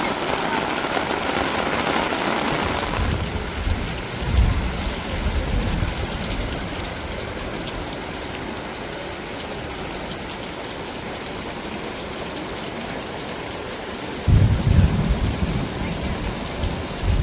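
Steady heavy rain hisses throughout, with low rumbling swells near the start and again toward the end like distant thunder.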